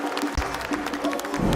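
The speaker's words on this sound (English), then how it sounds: "Give him a round of applause here, folks." A crowd applauding at a PUBG Mobile World Cup esports tournament, a steady dense patter of clapping with no break through the short stretch.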